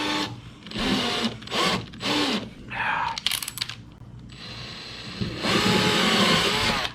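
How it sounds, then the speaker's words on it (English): A power drill whines in several short bursts with pauses between, drilling rivet holes in car headlight covers, then runs in a longer steady burst near the end, loud and close. "Okay, so we're going to drill these holes out."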